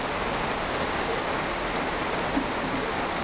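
Steady rain falling on a Dussehra day, an even hiss of close, continuous downpour with no talk and only a faint bump partway through.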